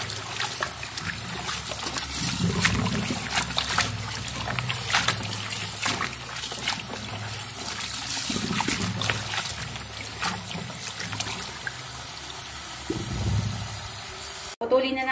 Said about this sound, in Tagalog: Yan po ay hugasan natin ng maigi.